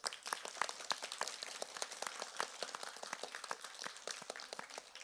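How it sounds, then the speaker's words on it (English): Parents, teachers and children applauding at a Year 6 graduation ceremony, a sparse but steady patter of many separate hand claps, fairly distant and quiet, with no talking over it. "I think our parents and all the teachers deserve a big round of applause"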